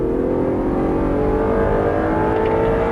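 An Audi R8 powers out of the late-apex hairpin at turn 11 of Sonoma Raceway. A loud, continuous engine drone holds steady and close throughout, with no voices.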